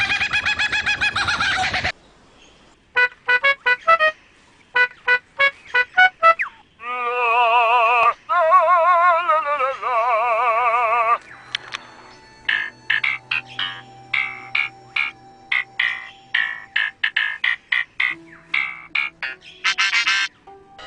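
A lyrebird mimics an electronic car alarm, producing a loud run of repeated beeping pulses, warbling siren sweeps and chirps in changing patterns, heard alone with no talking.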